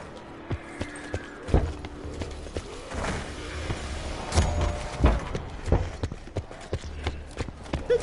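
Hooves of a horse in a video game, a run of sparse, irregular clip-clop knocks, some louder and closer than others, scattered over a faint ambient background with no talking.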